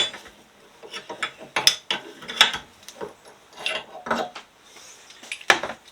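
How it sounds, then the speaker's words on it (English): A spanner works loose a bolt on the brake caliper of a Yamaha V-Max 1200, giving a run of close, sharp metallic clicks and clanks in irregular bursts with short pauses between them. "Just get my spanner to release this."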